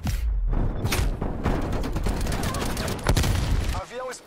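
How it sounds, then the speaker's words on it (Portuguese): A burst of gunfire and a heavy explosion in Call of Duty Black Ops Cold War multiplayer, loud rapid cracks and booms packed together, with brief talk over the chaos. "Lançando granada."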